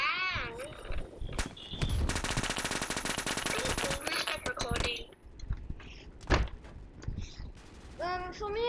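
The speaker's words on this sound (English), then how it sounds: "The MP7 is quite a good gun in this game." MP7 submachine gun fire in the online shooter Phantom Forces, a long sustained burst in the middle with shorter bursts around it, loud and close, with people talking and game effects between the volleys.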